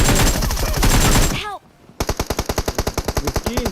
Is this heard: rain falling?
no